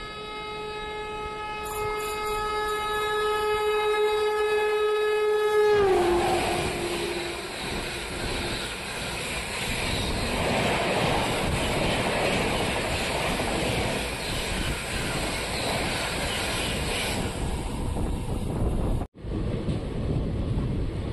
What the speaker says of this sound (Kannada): ಚೆನ್ನೈಯಿಂದ ಮುಂಬೈ LTTಗೆ ಹೋಗೋ ಸೂಪರ್ ಫಾಸ್ಟ್ ಎಕ್ಸ್ಪ್ರೆಸ್ಸು ಓವರ್ಟೇಕ್ ಮಾಡ್ತಿದೆ TKK ವಾಡಿಯಲ್ಲಿ